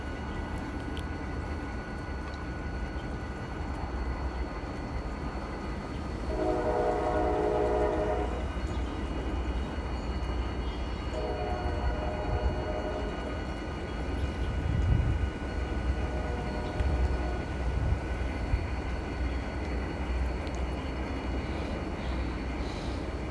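Model railroad switching scene with a locomotive backing in to couple onto an empty car: a low continuous rumble with several short horn toots sounding in bursts, faint and alone.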